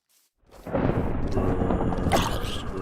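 A rolling thunderclap from lightning in Minecraft bursts in after a brief quiet and rumbles on loudly and steadily for a couple of seconds, with no talking.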